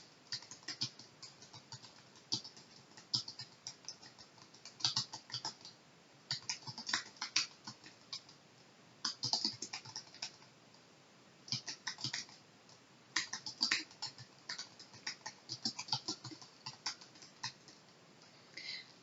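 Typing on a computer keyboard into a spreadsheet cell, irregular bursts of quick key clicks separated by short pauses over about nineteen seconds, close but fairly faint, with no voices.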